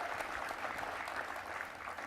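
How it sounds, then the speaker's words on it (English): Steady applause from a conference audience, a dense wash of clapping hands with no voices, fairly even in loudness throughout. "So can we give a round of applause for Vicki?"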